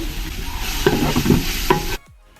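Curry leaves dropped into hot oil with green chillies and bay leaf hiss in a loud, close sizzle under brisk stirring and scraping. The sizzle cuts off abruptly near the end.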